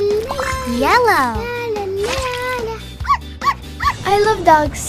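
A dog yips and whines in rising, wavering cries, close and lively, mixed with the excited, high voice of a child.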